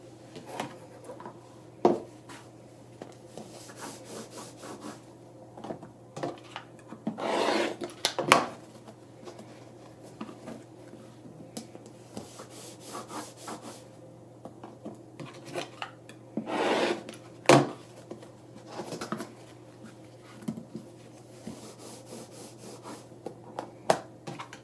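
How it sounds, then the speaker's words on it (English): Fabric quilt blocks for a pillow cover being trimmed, giving soft rubbing and rasping strokes with a few sharper scrapes at a steady working pace, moderately quiet and close, with no talking. "So I will go ahead and trim up the rest of these blocks"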